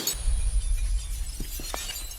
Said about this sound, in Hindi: मेरी इतनी महंगी गाड़ी का शीशा तोड़ दिया।